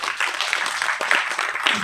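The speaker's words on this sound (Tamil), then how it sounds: "உண்மையிலே ஒரு தடவை கைத்தட்டலாம்" An audience applauds at a Tamil film audio launch event for the movie Kaayal, a brief burst of dense clapping from a large hall crowd, steady and fairly loud.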